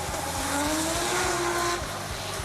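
A drift car skids at an international drift championship in Latvia, with loud continuous tire squeal and a roaring engine whose pitch climbs and sweeps across the run.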